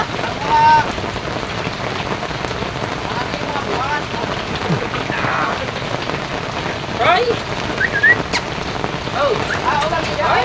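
Heavy rain drums steadily on a hut roof, a dense constant patter that fills the whole stretch, with brief voices and exclamations breaking through now and then.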